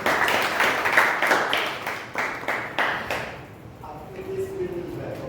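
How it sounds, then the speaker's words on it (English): An audience at a Toastmasters club meeting claps in a loose, steady patter for several seconds, fading toward the end as a voice begins over it. "Give him a round of applause."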